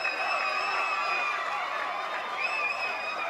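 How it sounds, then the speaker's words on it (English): A crowd cheers steadily at a GT3 Cup podium ceremony during the Michelin 12H Mugello race, a sustained, even roar with no clear breaks. "Told you it would be a big cheer."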